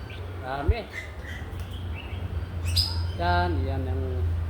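Myna birds calling at the Hong Kong Zoological and Botanical Garden, a few clear whistled and warbling calls over a steady low hum, moderately near, with a low voice murmuring faintly.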